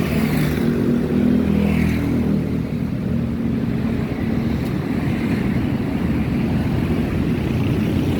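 A Honda GX160 small engine drives a rice threshing machine with a steady, loud, close-up drone and mechanical rumble, running throughout without talking.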